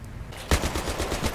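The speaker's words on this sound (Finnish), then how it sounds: "Kuka siellä nyt ampuu?" Rapid automatic gunfire in the Battlefield 3 video game: a sharp burst starts midway and continues as a steady rattling stream of shots, loud and close.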